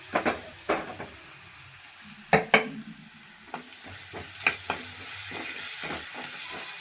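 Curry leaves sizzling in hot tempering oil beside ginger garlic paste and turmeric, with a steady frying hiss broken by sharp crackles and stirring clatter, close and fairly loud.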